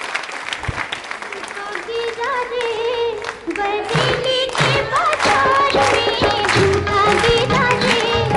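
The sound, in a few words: audience applause in honour of Lata Mangeshkar and Asha Bhosle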